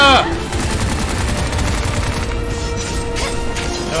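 Sustained automatic assault rifle fire in the futuristic shooter Bright Memory, a dense rattle of rapid shots running the whole way with a sharper burst at the start, loud and close.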